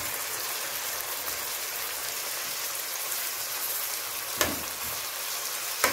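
Chopped onion frying in a pan, a steady dense sizzle close by, with a couple of brief clicks near the end and no talking.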